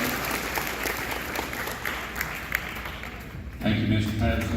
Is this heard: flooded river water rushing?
no